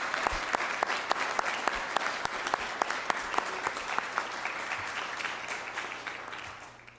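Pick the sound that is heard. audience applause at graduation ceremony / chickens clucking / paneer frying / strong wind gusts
audience applause at graduation ceremony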